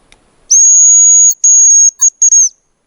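A hazel grouse decoy whistle sounds outdoors in winter, giving a long thin high-pitched whistle followed by a shorter one and a few quick trailing notes, loud and clear against silence.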